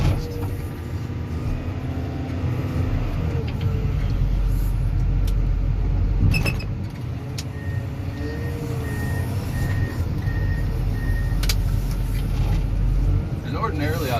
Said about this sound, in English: It is a 572 John Deere front end loader.